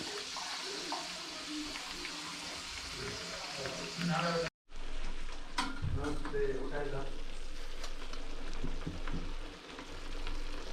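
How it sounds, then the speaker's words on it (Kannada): Hissing, crackling sizzle of spices tempering in hot oil for sambar, continuous and fairly close, cut by a sudden brief silence before the frying noise resumes. "ಒಗ್ಗರಣೆ ಮಾಡ್ತಿದ್ದೀನಿ."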